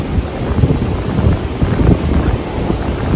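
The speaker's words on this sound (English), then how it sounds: "It's a bit windy here," Gusty wind at Niagara Falls, New York, buffets the microphone in low rumbling bursts, steady and close, with no voices.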